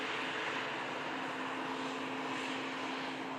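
Virgin Atlantic Airbus A330 airliner passing at an airport, a steady broadband engine roar with a faint hum, distant and even throughout.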